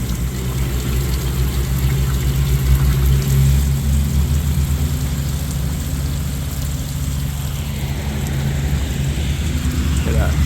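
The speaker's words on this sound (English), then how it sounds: "Look at the rain coming off that roof." Heavy rain pours off a roof near a hikers' hostel outside Erwin, Tennessee, making a steady, dense roar with a rumbling low end that holds at an even loudness throughout, with no voices.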